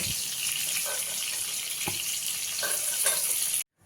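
Pointed gourd (potol) fries in oil with a dense, bright sizzle that carries on steadily. A few soft clinks and stirs come through before it cuts off abruptly near the end. No voices are heard.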